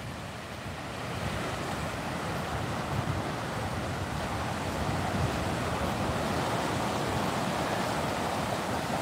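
Ocean surf washes onto a sandy beach at Myrtle Beach, a steady broadband roar that swells after the first second and holds continuously, with a touch of wind buffeting.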